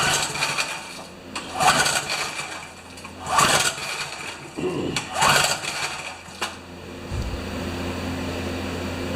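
A small 3 HP Briggs engine on a Turf Power tiller is cranked over for a compression test, giving four or five rising, effortful pulls with chugging bursts, close and moderately loud above a steady low hum.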